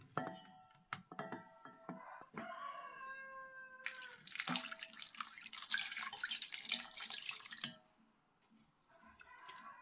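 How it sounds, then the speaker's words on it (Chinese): Eggs washed under a running kitchen tap: after a few faint clinks and knocks, a loud steady rush of water fills several seconds, then cuts off into quiet. "開始清洗雞蛋"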